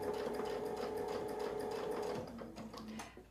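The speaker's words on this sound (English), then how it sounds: "We'll keep sewing across" A sewing machine stitches an 8-inch quilt block along a zig zag template in a steady, close, continuous run of rapid needle strokes, then stops after about two seconds, leaving quieter mechanical handling.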